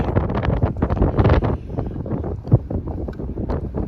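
Strong gusting breeze by a riverside buffets the microphone in a loud, continuous low rumble that surges and dips with the gusts.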